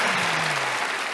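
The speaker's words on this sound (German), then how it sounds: "Hi Simon, ich glaube, lange hast du nicht mehr so einen Applaus bekommen, oder?" Studio audience applause greeting a guest on a German podcast, a dense, even wash of clapping across the short stretch with a low tonal hum beneath it.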